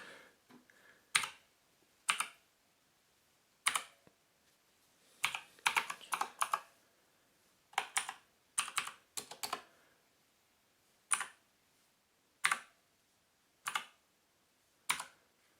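Typing on a GranVela MechanicalEagle Z-77 mechanical gaming keyboard with blue switches: sharp, close clicky keystrokes arriving singly and in short bursts, separated by quiet gaps.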